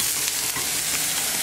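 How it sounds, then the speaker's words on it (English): A pot of water boiling for noodles in a home kitchen, giving a steady close hiss and bubbling with no speech over it. "The water is boiling for it."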